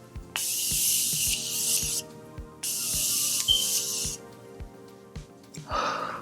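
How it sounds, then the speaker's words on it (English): Two sustained hissing mists of Morphe makeup setting spray, close by, with a faint rhythmic music beat underneath and a short rustle at the end. "I'm going to be using my very new setting spray, the Morphe setting spray, setting mist"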